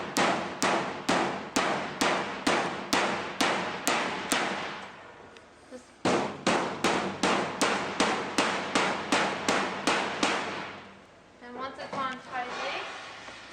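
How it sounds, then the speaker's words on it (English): Repeated sharp hammer blows ring out in a steady rhythm as a rubber piece is driven into a Starpluck SP-1 chicken plucker, two long runs of strikes separated by a brief pause, then softer tapping and shuffling. "and then you want to hammer into place."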